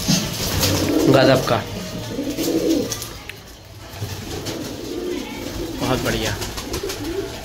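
Pigeons cooing softly nearby, low throaty murmurs recurring, while someone speaks over them in a casual tone.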